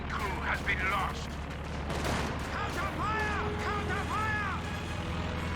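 In the Company of Heroes 2 battle, a Panzer IV tank fires amid heavy gunfire and explosions, with booming reports, mechanical clatter and whistling shell sounds, while a voice talks over the din.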